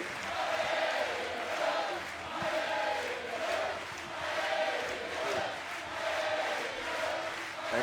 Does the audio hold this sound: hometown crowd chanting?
yes